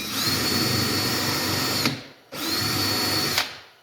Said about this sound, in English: I'm going to have to re-drill the pilot hole at a little bit of an angle